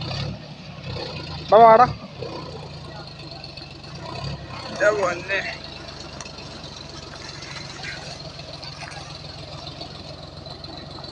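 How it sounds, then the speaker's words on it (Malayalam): A tractor engine churns steadily while the tractor is stuck in the muddy paddy field, a low, continuous rumble running beneath excited voices shouting nearby. "ട്രാക്ടർ ഫ്രണ്ട് വീല് പൊങ്ങിയിട്ടാ കൈസ് പോണത്"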